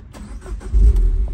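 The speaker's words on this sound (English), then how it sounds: "Just gonna start the engine." A Peugeot 208 GTi starts up, a short crank followed by the engine catching and settling into a steady low idle, close and fairly loud with no talk.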